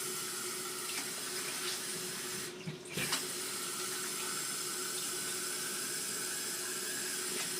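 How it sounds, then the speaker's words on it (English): Hot water running steadily from a tap into corn dough for banku, a continuous close hiss and splash lasting several seconds with a brief dip in the middle, and no voices. "I'm going to add some more water to it"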